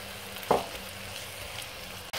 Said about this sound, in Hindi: हमने प्याज को थोड़ा सा सौते करना है